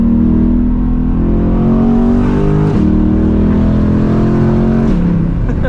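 Car engine drones loud and close as the car takes a turn on a winding road, pitch holding steady then dipping sharply twice as the driver shifts or lifts off, with no talking.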